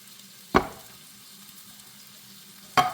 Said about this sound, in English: I'm just going to brown on both sides